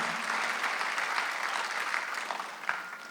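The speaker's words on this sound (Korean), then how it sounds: "박수하세요." A church congregation claps during a Sunday worship service, a dense, sustained roomful of applause with a few sharper individual claps rising near the end, no talking on top.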